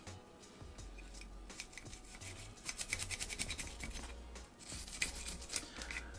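Brush scrubbing the breech face inside the slide of a Hi-Point 1095 pistol during cleaning, a steady scratchy rubbing with quick back-and-forth strokes that get louder and busier partway through, close up and with no talk.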